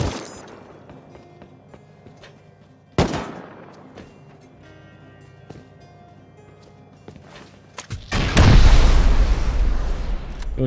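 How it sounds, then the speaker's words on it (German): Bots in the Rust video game blow up their own ladder: scattered sharp gunshot-like cracks, a loud blast near the start, then a heavy, roaring explosion that swells and lingers toward the end. "Die sprengen ihre eigene Leiter, die Bots."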